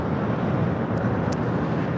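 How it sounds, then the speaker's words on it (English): Delta Airbus A330neo airliner taxiing on an airport taxiway, a loud steady jet engine roar with wind rumble, continuous and unbroken. "That A330neo now on taxiway"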